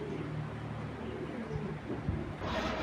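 Pigeons coo softly at a racing-pigeon loft, low steady murmuring calls repeating through the whole stretch, fairly quiet and close, with no one talking.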